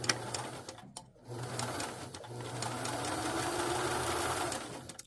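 A sewing machine runs steadily up close while stitching a beginner project, humming with a continuous mechanical rhythm that stops briefly near the start and then carries on.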